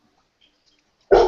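One loud dog bark breaks out abruptly near the end, very close and sharp, after near silence.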